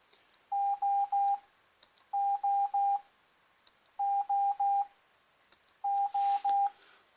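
Morse code letters from a training program, heard as steady electronic tones in four groups of three short beeps with brief gaps between groups, clear and close with no talking.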